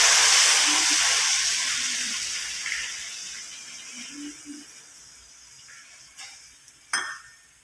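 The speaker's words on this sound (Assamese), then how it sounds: "এয়া মই কুহুমীয়া গৰম পানী দি দিছোঁ।" Lukewarm water pours into a pot of mutton curry, a steady rushing splash that is loudest at the start and slowly fades, followed by a few clinks and knocks near the end.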